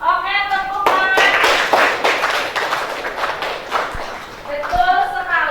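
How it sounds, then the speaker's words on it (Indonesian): Classroom applause: a group of students clapping in a burst of mixed, fairly loud hand claps, with voices speaking before and after. "Oke, tepuk tangan."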